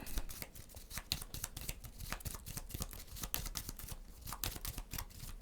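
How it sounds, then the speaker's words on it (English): Rapid crisp rustling and flicking of playing cards being shuffled, a dense stream of quick clicks close by with no talking. "Let's shuffle up."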